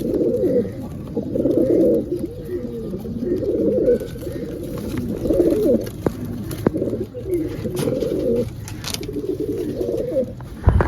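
A pair of Ferozpuri cross pigeons cooing close by, repeated soft throaty coos in uneven bursts, with faint background noise between calls.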